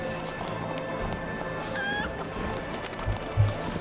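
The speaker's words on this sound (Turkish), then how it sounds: "Tavuk." Chicken clucking inside the video game Heavy Rain, a few short, fairly faint clucks over steady ambient game noise, with a louder burst near the end.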